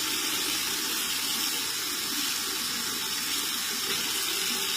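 A faucet runs steadily indoors, a continuous hissing splash of water filling a sink, fairly close and constant without pauses or voices.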